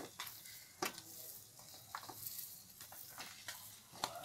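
Crushed jaggery stirred into raw mango in a pan for mango candy: soft, faint scraping strokes repeat at an uneven pace, close by, with no talking.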